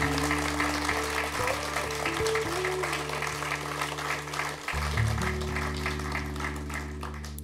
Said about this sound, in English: Please put your hands together for those.